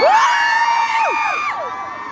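A large crowd roars with cheers, whoops and high shouts, loud and sustained throughout with overlapping voices.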